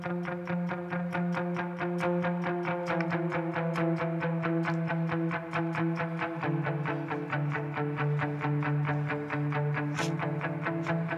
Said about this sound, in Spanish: tengo una reverb más pequeña y hacemos esta melodía de piso